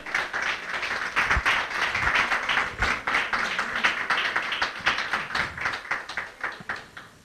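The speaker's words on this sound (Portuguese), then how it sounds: "Vamos dar uma salva de palmas para o Senhor?" A church congregation claps together in praise, producing a rhythmic run of fairly loud, regularly spaced claps that carries on throughout with slight variations in strength.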